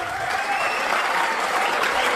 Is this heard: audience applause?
yes